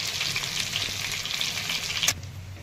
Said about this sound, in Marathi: तर ह्या मिरची आहेत ना, छानपैकी परतून घ्यायच्या आहेत आपल्याला